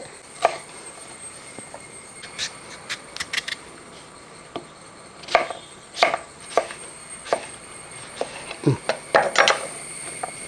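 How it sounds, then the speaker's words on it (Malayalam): A knife chops a sour mango into long thin pieces on a board, giving sharp irregular knocks. The cuts come in short bursts with pauses between them, close up and with no voices. "ഇതുപോലെ അല്പം നീളത്തിൽ തന്നെ ഇത് അരിഞ്ഞെടുക്കണം"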